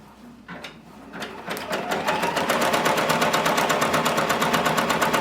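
A Brother Persona embroidery machine stitches an appliqué design for a varsity jacket, its needle hammering in a fast, steady mechanical rhythm that starts up and builds to a loud, continuous chatter close by.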